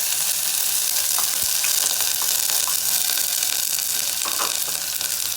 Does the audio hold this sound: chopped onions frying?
yes